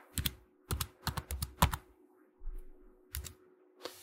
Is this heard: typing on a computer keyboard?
yes